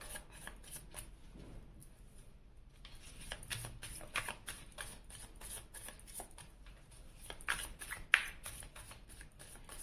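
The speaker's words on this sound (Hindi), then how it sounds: "और अब मैं आपके पर्सन के लिए भी कार्ड सिलेक्ट कर लेती हूँ।" Tarot cards are picked out and shuffled by hand for a reading, giving soft papery riffles, slides and taps that are quiet and close, with no talking.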